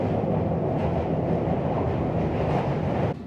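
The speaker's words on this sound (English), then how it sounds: "It's so noisy is because the rolling stock here is very old" An old London Underground train from about the 1970s rattles and roars loudly and steadily throughout, a dense, continuous clatter of aging rolling stock with no voices, ending with a slight drop in level.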